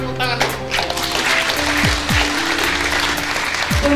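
Audience applause at a graduation ceremony, a dense continuous clapping wash with steady hum and tonal feedback lines running underneath, moderately loud throughout.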